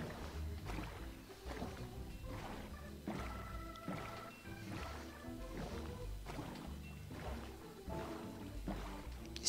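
Sailing a boat across water in Minecraft, with soft rhythmic paddling splashes and a steady low wash repeating under faint game ambience, no talk over it.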